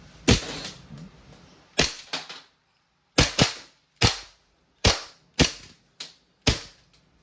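Sharp cracking shots from an Umarex Colt M45 CQBP full-metal CO2 blowback air pistol, about ten in quick pairs and singles with short pauses between, close and loud.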